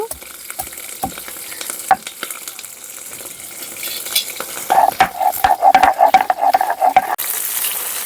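Long-cut eggplant slices frying in oil for shukto, a soft sizzle under scraping stirs, with a louder burst of sputtering crackle toward the end.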